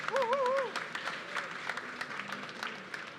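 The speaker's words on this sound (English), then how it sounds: "So a big round of applause," Audience applause at a startup award event on stage, steady clapping from a modest crowd, fairly faint, with a short whistle at the start.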